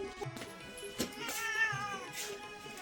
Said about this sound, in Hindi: ये बिल्ली पता नहीं कहाँ से आई अभी।